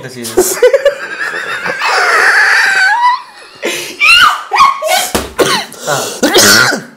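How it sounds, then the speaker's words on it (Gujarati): A person coughs several times in short harsh bursts, close up, with talking around the coughs. "હા પછી આમ ઉધરસ ચાલુ થઈ જાય"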